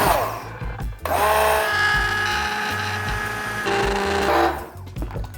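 A blender grinds a curry base of meat, carrot and potato, whirring loud and close in bursts, its pitch shifting as the mixture thickens, with short pauses between pulses.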